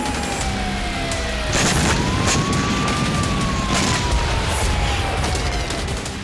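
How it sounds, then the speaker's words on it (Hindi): A red alert air raid siren in a western Russian city, its long wailing tone slowly rising and falling, with deep booms and rumbling underneath. "रेड अलर्ट के सायरन बजते सुनाई दिए"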